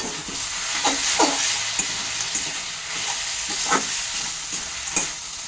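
Fried lentil dumplings (bori) stirred into a sizzling fenugreek greens curry with winter vegetables: a steady close frying hiss punctuated by repeated soft scrapes and knocks of a spatula moving through the pan.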